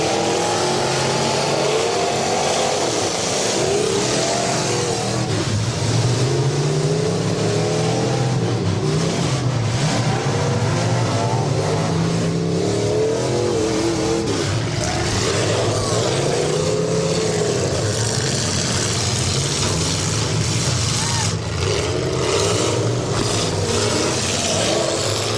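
Demolition derby cars at the 2012 Athens County derby rev hard and spin donuts, a dense, continuous roar of loud engines rising and falling without a break for the whole stretch.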